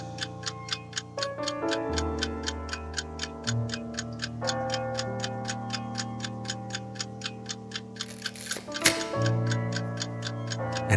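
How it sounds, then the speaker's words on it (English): Steady, even clock ticking repeats throughout, layered over sustained musical tones with a brief swell near the end. "I love church bells,"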